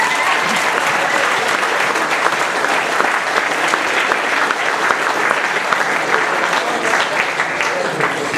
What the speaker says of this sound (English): So I think a round of applause for the two ambassadors.